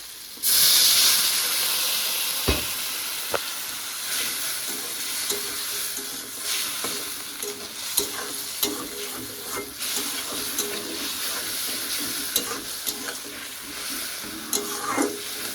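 Water poured into a hot frying pan bursts into a loud hiss, which settles into steady sizzling. A stirring utensil scrapes and taps the pan now and then, close by, with no talking.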